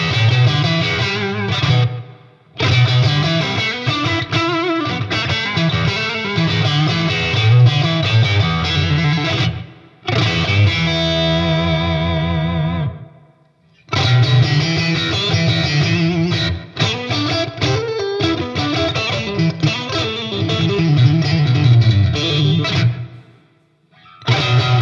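A distorted electric guitar plays loud chugging riffs and chords with brief pauses between phrases, heavily effected and without voices.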